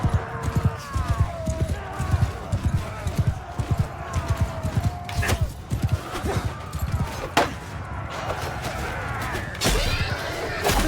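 Horse hooves clip-clopping in the game Mount & Blade 2: Bannerlord, a quick rhythmic run of thudding hoofbeats under battle noise with occasional sharp impacts, steady and close throughout.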